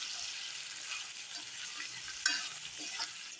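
Green peas stirred into a pan of frying peanuts, chillies, onion and potato in oil for poha, with steady sizzling and scraping stir strokes throughout, one sharper clatter near the end.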